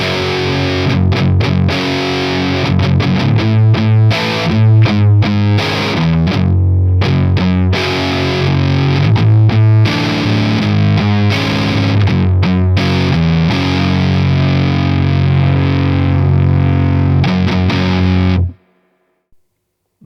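Electric guitar with humbucker pickups pushed through an Analogwise Skyrocket Fuzz pedal set around three-quarters, producing a loud, thick, sludgy riff with heavy sustain that chugs steadily and then cuts off abruptly into near silence.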